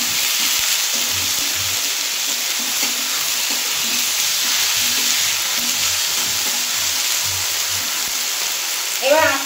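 Small tomatoes salted and frying in a hot pan for a Bengali tilapia jhal give a steady, loud sizzle with faint stirring scrapes, and a brief clatter comes near the end.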